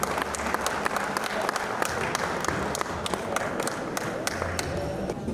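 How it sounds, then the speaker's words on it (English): Audience applause at a Diwali community lamp-lighting event, a steady wash of many hands clapping from a moderately distant crowd, sustained at even loudness for the whole stretch. "So please, a big round of applause as they're doing this."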